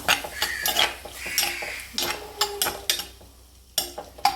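A spoon clatters and scrapes against a pan as salt is stirred into a Kerala-style prawn coconut curry, with a series of irregular metallic knocks and a faint simmer underneath, no voices.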